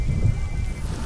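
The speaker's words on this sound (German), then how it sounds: "Momentan ist da so viel Regen, dass das nichts bringt." Rain hisses steadily in the Black & White video game, with a low rumble of thunder underneath. The storm sounds close and fills a brief moment.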